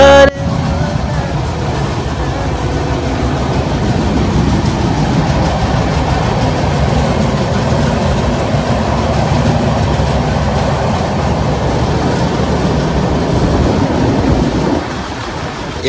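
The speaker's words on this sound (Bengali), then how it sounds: "এই মুহূর্তে এই ট্রেন একটি বড় টানেলের মধ্য দিয়ে যাচ্ছে।" The Howrah–Jagdalpur express rumbles through a large tunnel, a loud, enclosed, continuous roar of wheels and carriages echoing close by, easing off near the end.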